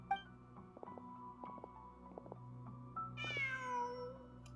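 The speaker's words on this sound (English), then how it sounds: "Just a cat." A cat in the Genshin Impact video game gives a clear, rising-and-falling meow near the end, over quiet ambient game music and soft chimes.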